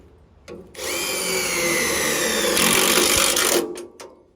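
A power drill drives screws into deck boards during deck building. It runs at a loud, steady whine for about three seconds, with a sharper pitch near the end, and then stops with a couple of brief clicks.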